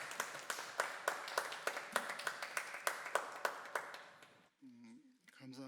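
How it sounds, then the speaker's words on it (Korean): Congregation clapping during a Sunday church worship service: evenly spaced, rhythmic claps at a steady beat for about four seconds, then they stop and a voice speaks. "하나님께 영광의 박수 올려드리겠습니다."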